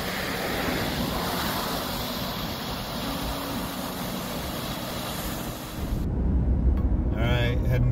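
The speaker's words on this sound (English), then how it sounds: "Driving through Colorado and came across this flash flood here, just right off the" Flash flood water rushing beside a Colorado highway, a loud steady broadband roar with wind buffeting the microphone, ending with a shift to closer, rougher rumbling near the end.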